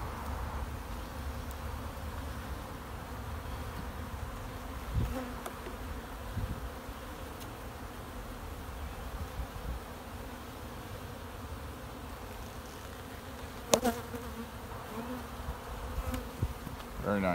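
Honey bees in a small overwintered colony's hive make a continuous low, droning hum, close and steady throughout with the odd sharper buzz of a single bee passing near.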